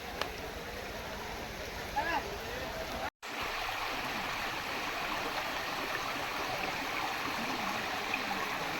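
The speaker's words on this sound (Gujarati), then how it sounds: "આ જો નદી." A river flowing along the Girnar Lili Parikrama pilgrimage route at Junagadh, with a continuous rushing, gurgling wash of water close by and a brief dropout partway through.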